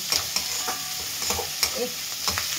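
Chopped capsicum and chili get stirred in a hot pan, with a sizzling bed broken by repeated sharp spatula scrapes and taps at a quick, uneven rhythm, close and fairly loud with no talking.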